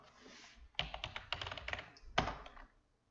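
Quick, soft keystrokes tap on a computer keyboard, with a short run of typing followed by one firm key press, close and quiet with no talking.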